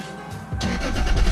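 A Toyota SC300 with a 2JZ engine, heard up close after a power steering pump replacement, fires up and runs with a loud, rough rumble that builds over about a second.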